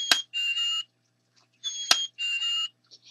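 Two short bursts of high, whistled chickadee chirping notes, each opened by a sharp click, separated by a pause; clear and fairly close with no talking.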